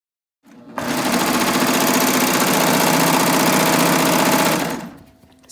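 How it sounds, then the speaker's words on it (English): A serger runs steadily for about four seconds, finishing the edge of a fabric tie piece for a top, with a loud, continuous close-up whir that starts abruptly and winds down at the end. "got that first piece all serged off"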